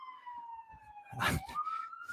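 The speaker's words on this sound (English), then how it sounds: "Ambulances and the police are all over the place." A police siren wails steadily at a distance on a Bronx street, its rising and falling tone joined briefly by a louder nearby rustle or thump.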